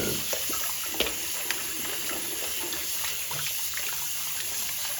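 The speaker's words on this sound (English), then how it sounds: "Filling up with enough water." Water runs from a tap into a sink to rinse gloves, a steady hissing splash with a few small clinks and knocks against the basin, close and continuous throughout.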